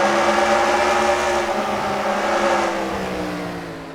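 Loud, steady race car engine drone from an onboard view of the 12 car in the NASCAR Racing 2003 video game at Myrtle Beach, with sustained harmonic tones and a slight pitch fall as it fades toward the end.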